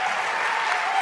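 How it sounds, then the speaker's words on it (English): An audience at a live progressive political debate applauding, a dense steady wash of clapping throughout the short moment, fairly close and full. "We clap for Brad"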